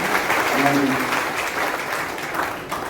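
Audience applause welcoming the organisers at a religious gathering in Jodhpur, Rajasthan, a sustained wash of many hands clapping at steady loudness, with a voice faintly audible underneath.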